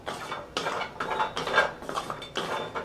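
Dry ginger being roasted in a pan, with repeated clattering scrapes of a utensil against metal in uneven strokes, close and fairly loud with no talk.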